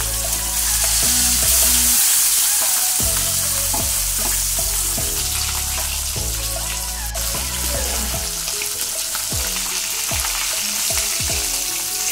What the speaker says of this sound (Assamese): তেলখিনি গৰম হোৱাৰ পিছত মাছখিনি ভাজি লৈছোঁ